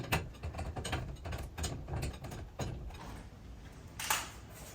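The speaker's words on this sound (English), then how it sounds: "Next up is winding up that new spring" Winding bars ratcheting a new garage door torsion spring, a series of quick metallic clicks and knocks in uneven bursts, faint and close, with a sharper clank near the end and no talking.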